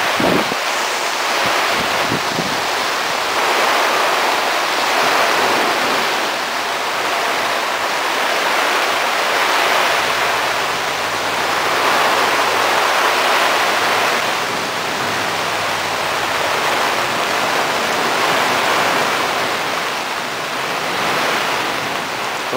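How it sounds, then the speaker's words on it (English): Steady broadband hiss of rain pattering onto water, continuous and fairly loud throughout with no voices. "Love how the rain falls on the water."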